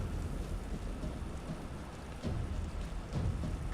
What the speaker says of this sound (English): rain scroll to put out the fire